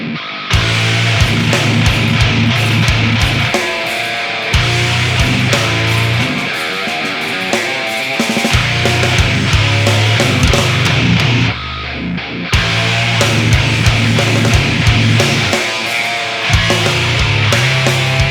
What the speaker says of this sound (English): I recorded a piece of music using this system, and it sounds like this.